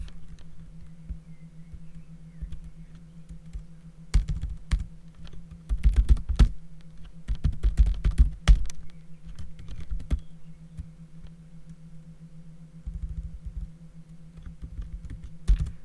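Typing a terminal command on a computer keyboard, clicky keystrokes coming in uneven bursts with pauses between them, close and fairly quiet.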